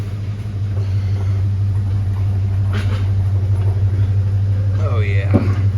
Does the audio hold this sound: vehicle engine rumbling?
yes